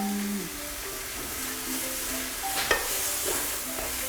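Marinated duck bulgogi sizzles in a heated pan, a steady close frying hiss with light stirring scrapes and one brief clack, and no talk.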